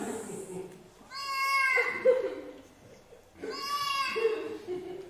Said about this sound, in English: So my head is just full of fighting cats